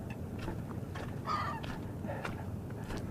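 Seagulls lined up along the water call out in short honking squawks over steady outdoor wind and lapping noise, several calls spaced irregularly at moderate distance with no voices.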